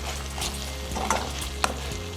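Onions fry and sizzle with sauce in a pan while a utensil stirs them, with a couple of light scraping clinks against the pan.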